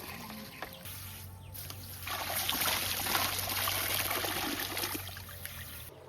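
Green gram being washed in water, a soft trickling and sloshing that swells in the middle and eases toward the end, faint and close, with no talk.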